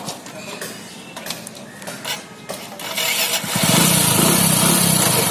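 A Hero Passion Pro motorcycle, just repaired for a gear-slipping fault, idles with mechanical clicks from gear shifting, then its engine rises to a loud, steady running roar up close.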